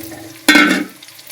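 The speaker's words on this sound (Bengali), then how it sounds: "এবার ডাল দিয়ে দেবো।" Mung dal hits hot oil already holding cumin, cardamom, cinnamon, cloves, ginger and green chilli, giving a sudden loud sizzle that fades over a second, close and alone.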